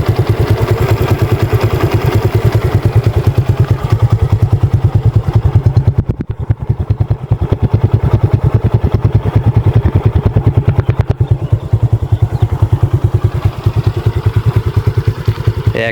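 A 2024 Suzuki Gixxer Monotone motorcycle idling close up, a steady rapid thumping engine pulse that holds loud and even throughout, with a brief slight dip partway through.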